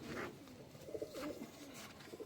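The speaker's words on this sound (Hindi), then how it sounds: "वो बहुत प्यारा कबूतर है" A pigeon coos softly in a series of low, rolling calls, faint and close, with light background noise around it.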